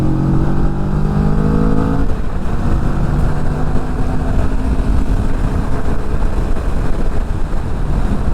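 A Kawasaki Vulcan S 650 cruiser motorcycle on the highway, its engine droning loud and steady under heavy wind roar, with one shift in engine pitch early on, and no speech.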